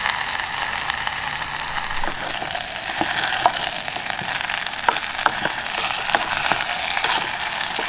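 Potatoes, peppers and onions frying in a pan, a steady close sizzle with scattered pops and crackles throughout.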